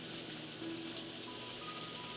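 Rain in the Story of Seasons farming game, a soft continuous patter of falling drops at low volume, with faint steady tones from game music running underneath.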